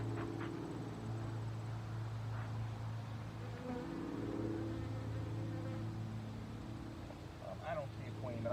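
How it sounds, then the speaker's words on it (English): Honey bees buzz continuously from an opened hive during an inspection, a low droning hum with one agitated bee pitching up nearby; a person talks intermittently over the buzzing. "Oh, that's an angry bee."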